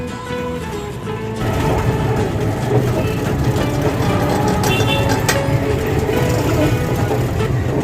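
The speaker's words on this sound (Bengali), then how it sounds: "স্টেশন থেকে এবার টোটো করে যাচ্ছি বান্ধবীর বাড়িতে" An electric toto rickshaw rides away from a railway station with a steady rumble of road noise and passing traffic throughout, and speech mixes in.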